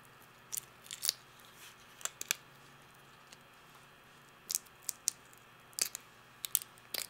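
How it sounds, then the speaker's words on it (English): Raw prawns are peeled by hand with the tails left on, giving scattered soft crackling snaps and crunchy shell clicks in short irregular bursts over a quiet background. "While the sauce is cooking, peel the prawns."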